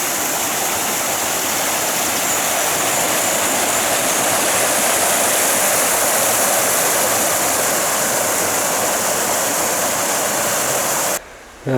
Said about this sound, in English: I'm just following the river.